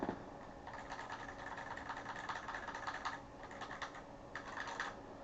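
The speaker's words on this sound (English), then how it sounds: "This is also a mechanical numpad." Rapid mechanical numpad keys clacking in a steady burst of typing, close and moderately loud, with a couple of short pauses between runs of keystrokes.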